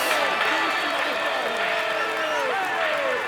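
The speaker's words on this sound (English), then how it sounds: "let's applaud him once more" Crowd applause and cheering at a Tour de France 2026 video game podium ceremony, a steady wash of clapping under a commentator's talking voice.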